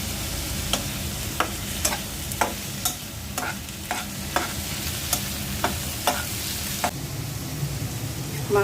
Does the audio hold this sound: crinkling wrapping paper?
no